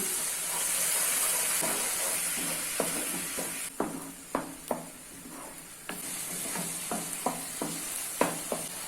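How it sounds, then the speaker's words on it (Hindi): Onion masala mixed with spices and tomato puree cooks in a pan over a medium flame, giving a steady close sizzle broken by repeated sharp scrapes and taps of a spoon stirring against the pan. "अभी इसको मीडियम फ्लेम पे 2 से 3 मिनट तक कुक कर लेना है।"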